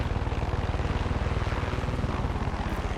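A helicopter in the video game Far Cry 6 flies nearby with a steady, fast rotor chop under a broad engine whine, holding a constant loudness throughout.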